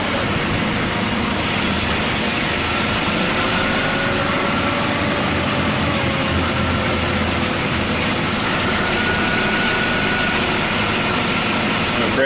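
Car engine running steadily at idle with the AC system hooked up and the compressor kicking on, a constant broadband hum filling the whole stretch with faint rising tones partway through, no talk.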